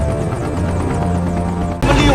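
A helicopter flies in an action movie scene starring Jackie Chan and John Cena, its rotor beating loud and steady, then a sudden crash-like burst cuts in near the end.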